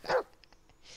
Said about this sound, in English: Idiot dog.